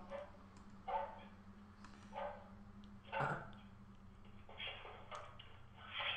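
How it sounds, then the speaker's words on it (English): Faint dog barks and small yips come through a phone call, several short barks spread out over a few seconds, thin and distant beneath a steady line hum. "A dog barking in my ear."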